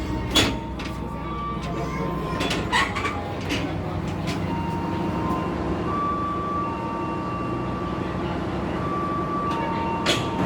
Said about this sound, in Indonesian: Sekitar jam 10 lebih 37 menit, kereta api Tegal Bahari tiba di stasiun Cikampek